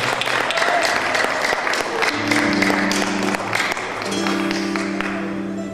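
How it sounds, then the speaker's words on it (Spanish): Audience at a live concert by a folk music group applauds a performer, a steady wash of clapping close and full throughout, with sustained instrument tones ringing underneath. "Un aplauso para él."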